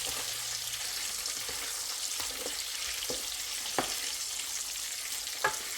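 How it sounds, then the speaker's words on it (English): Bacon crisping in a pan on an electric stove gives off a quiet, even sizzle, with a few faint clicks and pops now and then. "this bacon starting to get a little bit crispy"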